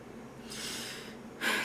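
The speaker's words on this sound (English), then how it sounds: "I don't know why I'm clearing my throat like crazy" A woman clears her throat a few times, two short raspy bursts of breath following a quiet pause, the second louder and sharper.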